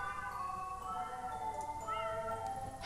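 A cat in the video game Tokyo Dark meows clearly against soft game background music, its short tonal calls rising and falling with no talk.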